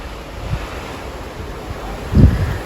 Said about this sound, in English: That over there is a celebrity cruise that's cruising next to us, but here is the ocean.